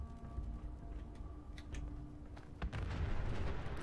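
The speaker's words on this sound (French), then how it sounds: "Encore des explosions." Explosions in the video game Fallout 4: a series of muffled booms and sharp bursts, some distant and some closer, with a louder cluster of blasts toward the end over a low rumbling game background.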